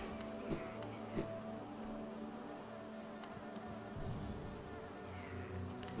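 Buzzing bees in the bee level of the Hollow Knight video game, a soft, steady insect drone with a few faint clicks and light thuds, plus a brief brighter swell near the end.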